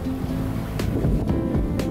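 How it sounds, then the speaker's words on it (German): Short, steep, rough sea waves in the Little Belt, with wind against current. They wash and slap continuously around a sailboat, with sharp splashes and gusty wind noise on the microphone. "Es entsteht eine ungemütlich kurze und ziemlich hohe Welle."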